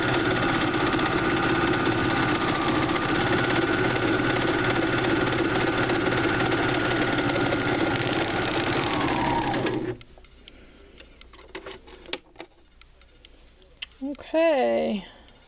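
A sewing machine runs steadily and loudly for about ten seconds, finishing the edge of a kitchen towel, then stops, leaving quiet handling sounds and a brief voice near the end.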